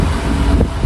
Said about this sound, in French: Énorme vent